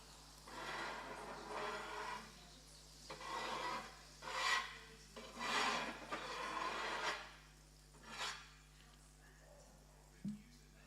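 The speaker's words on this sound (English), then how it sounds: "Apologies for the scraping noise" Intermittent rasping scrapes, like something rubbed or dragged across a rough surface, come in uneven bursts of a second or two over a steady low hum, fairly faint and close, with a brief knock near the end.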